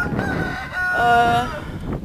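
On a poultry farm with about 300 chickens, a rooster crows loudly and close by over a background of clucking hens.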